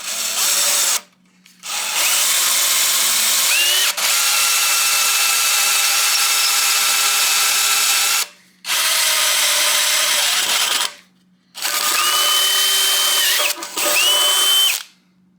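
A power tool cuts aluminum in a home garage, a loud continuous whining grind in long bursts separated by short silent breaks, with pitch shifts as the cut loads up.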